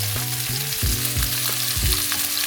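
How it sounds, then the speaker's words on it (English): Sesame-crusted ahi tuna searing in a hot pan, a loud, constant crackling sizzle with repeated scraping knocks from the pan or utensil, close up with no talking. "You're gonna hear that sizzling right in there with a little piece."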